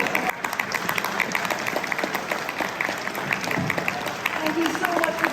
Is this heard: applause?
yes